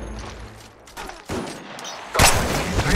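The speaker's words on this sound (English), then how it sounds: "Opening fire." Rapid bursts of automatic gunfire from the video game Apex Legends, loud and close, with a brief lull before heavier sustained shooting.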